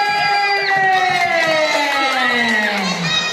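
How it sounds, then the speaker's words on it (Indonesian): Elementary schoolchildren at a poetry reading contest cheer and shout together, a lively, loud crowd sound with high voices and sustained tones running through it. "tepuk tangan ini"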